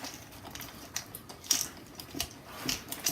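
Small plastic fire alarm being screwed into its base by hand, giving faint, irregular clicking and ratcheting ticks scattered across a few seconds, close up and quiet with no talking.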